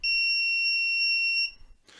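A breadboard ultrasonic distance alarm's buzzer gives one loud, steady, piercing electronic tone for about a second and a half, then cuts off abruptly. A few faint clicks follow.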